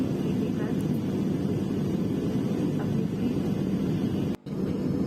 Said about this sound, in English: So right now we are going to take off from Mumbai airport.